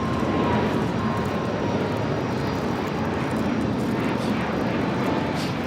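A Southwest Airlines jet takes off from runway 25 right at LAX, a steady, loud broadband engine roar filling the whole stretch without letup.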